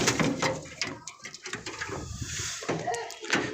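A pigeon coos close by in short soft throaty phrases, a hen getting ready to lay, with a faint voice and some handling noise in the background.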